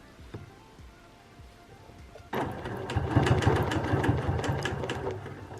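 A sewing machine quilting along a wavy ruler: after a couple of seconds of quiet handling noises, the motor starts abruptly and stitches in a steady, rapid, close hum until the end, with no talk.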